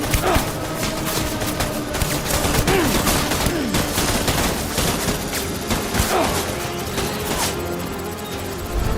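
Rapid gunfire from the video game High on Life crackles in dense bursts and volleys, loud and close, with scattered impact and creature sounds between shots.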